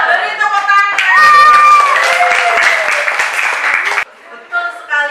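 An audience breaks into a burst of loud, dense clapping lasting about three seconds, with a voice speaking before and after it.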